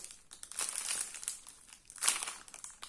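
A Wankul trading card booster pack being opened: crisp foil crinkling and tearing in two bursts, one longer and one short sharp rip, close and fairly loud with no talking.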